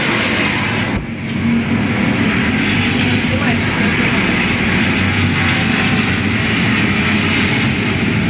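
Street stock race cars roar around Louisville Motor Speedway in a steady, loud engine drone, a dense wash of motors at speed with crowd noise beneath and no talk heard.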